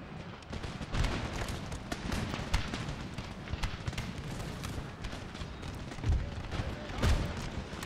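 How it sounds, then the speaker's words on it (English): Cannon and artillery fire on an Empire: Total War battlefield, with several heavy booms rising out of a constant rumble of musketry and battle noise, some near and some distant. "Let's have you load the cannonballs and shoot at that foot infantry over there."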